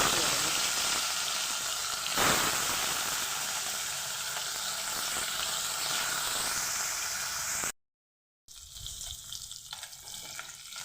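Rui fish frying in hot oil in a wok, a continuous loud sizzle heard up close, broken by a brief silent gap before the sizzling resumes.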